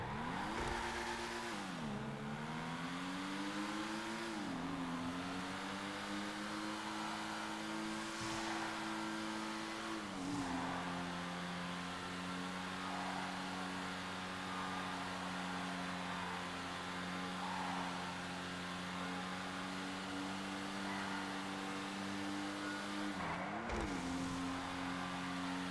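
Ocelot Pariah sports car engine in a video game, a steady droning tone that rises and dips with gear shifts and throttle changes, continuous and close for the whole stretch with no talking.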